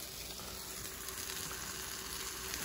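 Yellowfin tuna frying in a pan, a steady, soft, continuous sizzle with fine crackling, close and even throughout with no voices.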